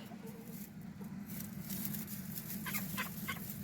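Chickens in a winter coop with a hen brooding a newly hatched chick give soft, low clucks and faint chirps over a steady background hum.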